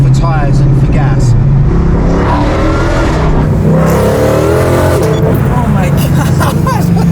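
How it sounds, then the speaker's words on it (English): A supercharged Shelby GT500KR engine revs loudly and steadily close by, its rising roar carrying a high supercharger whine, while a person lets out a short excited exclamation over it. "you can still hear the supercharger whine"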